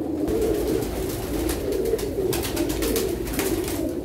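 A female pigeon coos near at hand in a repeated, throaty rhythm of soft rolling calls, going on steadily without any voices.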